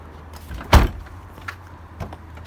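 Toyota Soarer car door slammed shut once, a sharp close thud followed by a few faint clicks and small knocks in a quiet garage setting.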